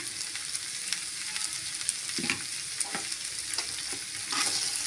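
Cabbage and beans stir-fried in a pan for a Tamil poriyal give off a steady sizzle, broken by repeated scraping stirs of a spatula against the pan, close by, with no talking.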